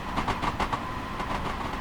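A train rolls along the track in a train simulator game, a steady loud rumble with rhythmic clickety-clack wheel beats over rail joints, heard alone without voices.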